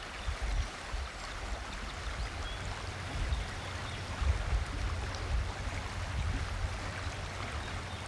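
Swollen, muddy creek in the Ohio Valley after a week of heavy rain, rushing steadily with a dense, continuous wash of water, close and fairly loud with no voices.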